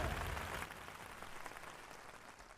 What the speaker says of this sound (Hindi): तो आइए जोरदार तालियों के साथ स्वागत करें डॉक्टर स्नेहलता पाठक का।